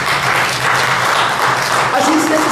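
A church congregation applauds in a steady, dense wash of clapping that fills the whole stretch, with voices talking over it.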